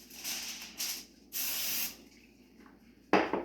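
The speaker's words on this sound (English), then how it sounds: "spray it with just a little bit of non-stick cooking spray" Several quick bursts of hissing non-stick cooking spray, short puffs and one longer spray, close up, followed by a clatter as the can is set down.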